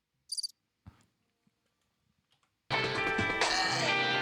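A cricket chirping sound effect played from a CD gives one short, high trill burst in near silence, followed by a few faint clicks before loud music abruptly takes over.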